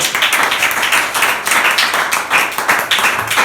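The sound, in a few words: applause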